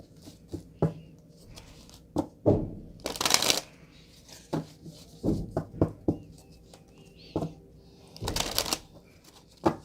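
A deck of past life oracle cards being shuffled close by, in repeated quick riffling bursts with short pauses between them, and no talking over the sound.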